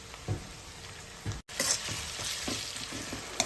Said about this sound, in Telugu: అల్లం వెల్లుల్లి పచ్చివాసన పోయేంత వరకు వేయించుకోవాలి